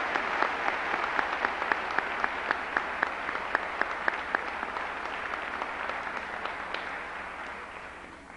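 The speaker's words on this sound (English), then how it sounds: "with a well-deserved round of applause" Sustained applause from a large crowd in a big room, with a few sharp individual claps standing out before it slowly fades.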